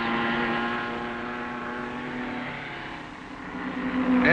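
A race car engine from the 1955 Le Mans race drones steadily at a distance, a sustained tonal whine that fades slightly and then swells as it nears.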